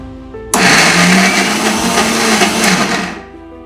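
An electric blender switches on abruptly and whirs loudly at a steady pitch for about three seconds, grinding grated ginger, green chillies and soaked lentils into a coarse paste, then winds down.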